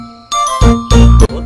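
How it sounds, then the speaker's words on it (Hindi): A mobile phone rings with a bright, repeating electronic jingle, loud and close, in two or three short bursts with no talk over it. "ले तेरी मैडम का फोन आ गया"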